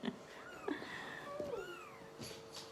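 A cat meows several times close by, rising and falling calls spaced through the moment, with quiet household background between them.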